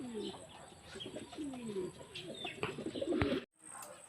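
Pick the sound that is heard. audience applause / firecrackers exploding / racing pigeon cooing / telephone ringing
racing pigeon cooing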